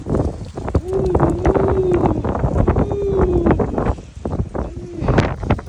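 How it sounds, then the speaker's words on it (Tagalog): Strong night wind roars steadily close to the microphone, with gusty buffeting and a few thin whistling tones, while people talk and exclaim over it. "Kasi grabe talaga ang hangin mga kabali"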